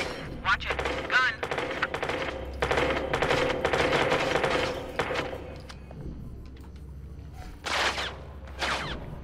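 Bursts of automatic gunfire and single shots ring out during a street shootout in Watch Dogs 2, loud and repeated across the scene, with pauses between volleys and faint voices underneath.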